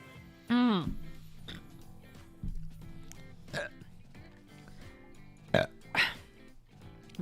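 Several loud, close burps during a live stream, one long rasping belch followed by shorter ones scattered between quiet stretches.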